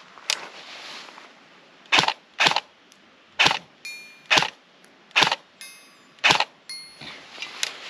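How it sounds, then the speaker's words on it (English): Evike EMG airsoft gun firing single rounds outdoors at about 30 yards, a string of sharp, loud snapping shots spaced irregularly about a second apart with quiet gaps between. "let's go ahead and shoot a few rounds,"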